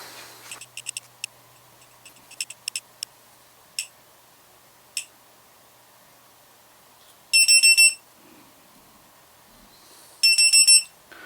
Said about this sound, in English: So this is the first alarm, and it beeps every 2 seconds.